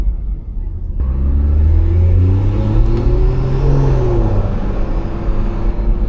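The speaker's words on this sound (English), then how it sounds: "that turbo sound lovely" A turbocharged BMW B58 engine revs up with a rising, rumbling whine as it accelerates nearby on backroads, the pitch climbing then leveling off, loud and continuous.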